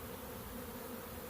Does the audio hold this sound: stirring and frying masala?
no